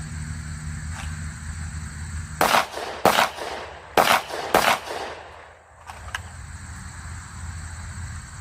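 Shots from an FN510T 10mm pistol at a 7-yard range crack out in two quick pairs, sharp loud reports over steady background hum, with a faint pop afterward.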